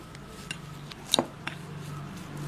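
A spoon scrapes and clinks against a bowl while peanuts are mixed with coconut oil, giving a few scattered light taps and one sharper clink over a quiet background.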